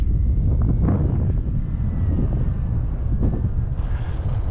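An H.King Frenzy 1400mm RC trainer plane flies in gusty wind, its thin engine drone partly buried under loud, steady wind buffeting on the microphone, with no talking.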